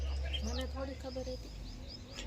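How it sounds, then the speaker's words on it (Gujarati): House sparrows chirp near their nest in a Gujarati village, a few short, faint repeated chirps over a steady low background hum, with brief louder calls early on and no clear speech. "અહીંયા ઉપર તો ચકલી કેટલી છે."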